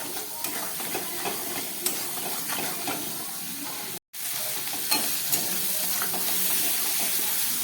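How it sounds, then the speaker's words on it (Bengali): A ground paste of ginger, cumin and dried chilli sizzles and is stirred in hot oil for a fish curry, a steady frying hiss with scattered scraping clicks and one brief dropout midway. "এইটা দিয়ে এবার আমি খুব ভালো করে কষিয়ে নেব।"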